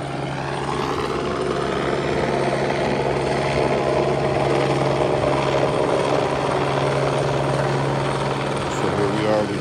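A helicopter heard over a neighborhood in La Puente, its rotor chop and engine drone holding steady and fairly loud throughout, with a constant low hum beneath.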